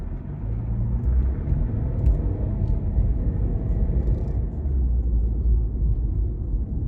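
A car driving along Independence Parkway in Frisco, Texas, heard from inside as a steady low engine and road rumble with tyre noise, continuous and fairly loud for several seconds, with no talking.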